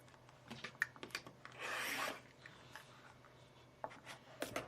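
Fabric is cut diagonally along a ruler, heard as soft scraping and rubbing with a sustained rasping slice in the middle, scattered light taps and handling clicks around it, quiet and close.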